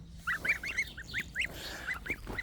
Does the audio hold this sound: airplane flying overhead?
no